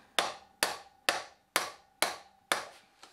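A bolt on a rusty motorcycle axle is struck six times at an even pace with a hammer, each blow a sharp close metallic knock that rings briefly before the next.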